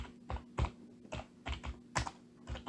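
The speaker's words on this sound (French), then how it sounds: "je vais taper une requête un peu moins gourmande" Typing on a computer keyboard, a handful of close, distinct keystrokes in an uneven rhythm over a faint steady hum, with no voice.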